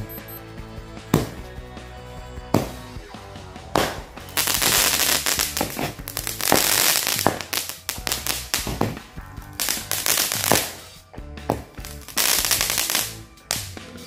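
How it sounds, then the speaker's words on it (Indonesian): Rapid bursts of loud firework bangs and crackles from a Cobra cake firecracker at night, some isolated pops and some dense rattling volleys, continuing for several seconds without talk. "selanjutnya kita sumet mercon Cake Cobra."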